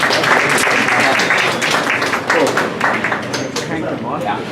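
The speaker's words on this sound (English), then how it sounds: "So all should give yourselves a round of applause for that." Applause from an audience at a tech meetup talk in Cape Town, a dense steady patter of clapping filling the room from start to finish at fairly loud level.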